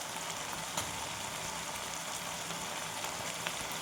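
Ginger garlic paste frying in a pan, a steady soft sizzle with faint crackles throughout, quiet and without voices.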